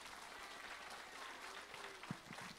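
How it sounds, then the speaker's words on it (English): A group of children clapping together to welcome a guest at a storytelling event, a dense, steady patter of applause heard at a distance and fairly faint, with a few low knocks near the end. "Clap and welcome Faith Bautista."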